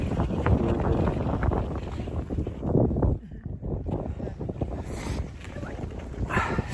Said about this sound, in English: Windy and blustery.